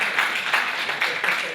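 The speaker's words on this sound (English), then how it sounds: "Applause is free" Audience applause at a sales and startup conference talk, a short burst of scattered clapping from a modest crowd, fairly close and steady for under two seconds.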